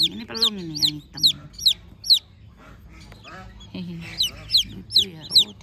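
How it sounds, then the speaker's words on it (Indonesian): Pelung chickens cluck loudly and close by in repeated sharp bursts, several birds calling in quick succession with short pauses between, joined by lower honking from nearby fowl. "Ini kalau nggak salah ini ayam pelung ya."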